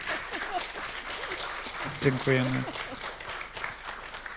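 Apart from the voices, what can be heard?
audience applause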